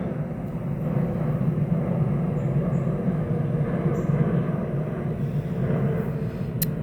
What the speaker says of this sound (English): That is an airplane you hear overhead because I live not too far from the airport